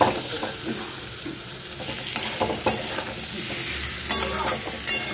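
Eggs and small potatoes sizzle steadily in a pan while being stirred, with scraping strokes and occasional clinks of a utensil against the pan rising above the continuous frying hiss.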